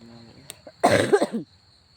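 A single short cough rings out close by, following a faint throat noise and a small click, with quiet air afterward.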